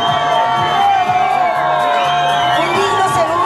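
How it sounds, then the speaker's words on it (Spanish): A crowd at a pageant coronation cheers and whoops loudly over continuous applause, with shouts and voices rising above the dense, close roar throughout. "¡Fuerte los aplausos, por favor!"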